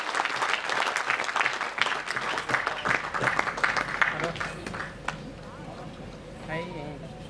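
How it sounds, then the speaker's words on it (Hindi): Loud audience applause at a political party convention speech in Mumbai, dense clapping that swells and then fades, ending with a voice speaking over a microphone. "एक बार जोरदार जिन साथियों ने दिया उन साथियों के लिए जोरदार ताली।"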